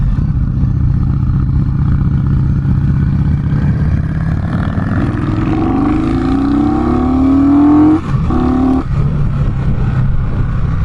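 An Indian Scout Bobber motorcycle engine idling with a deep rumble, then rev-bombed in rising throttle blips that climb sharply and drop back, loud and close with no talking.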